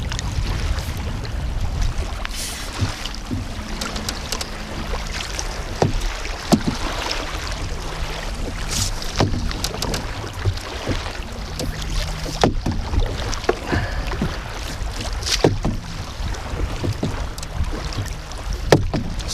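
A canoe paddled on open water in strong tailwind: steady wind rush and buffeting across the microphone, with repeated paddle splashes and hull knocks, continuous and fairly loud throughout.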